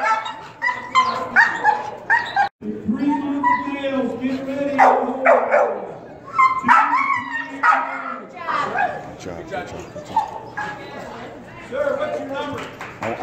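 Pit bulls at a gamebred dog show bark, yip and whimper repeatedly at close range, mixed with people talking nearby.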